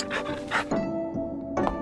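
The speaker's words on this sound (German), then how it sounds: "Der Hund ist gut erzogen." A dog in the VR game You Can Pet The Dog VR pants in quick, breathy bursts close by, with short pauses between panting runs.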